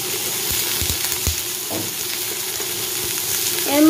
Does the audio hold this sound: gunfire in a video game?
no